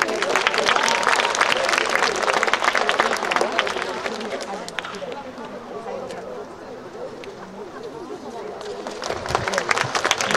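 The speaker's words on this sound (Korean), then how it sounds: "박수로 맞이해주십시오" A crowd at a statue-raising ceremony applauds to welcome a speaker, loud and dense clapping that eases into a steady lighter patter with background murmur, then swells again toward the end.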